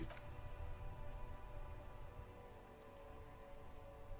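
Steady rain falls in the Disco Elysium video game, a soft, even patter on surfaces that continues unbroken and fairly quiet throughout, with no voices.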